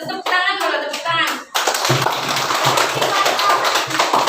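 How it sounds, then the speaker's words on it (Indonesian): Children in a classroom clap their hands together, a burst of quick, busy, close claps that begins after a short spoken prompt and continues steadily to the end, with a voice mixed in. "Tepuk tangan dulu, tepuk tangan."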